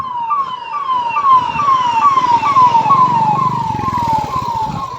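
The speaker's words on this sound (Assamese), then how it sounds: "এম্বুলেঞ্চ," An ambulance siren wails loud and near, repeated falling tones sweeping down in a steady cycle over rumbling road traffic, with no talk.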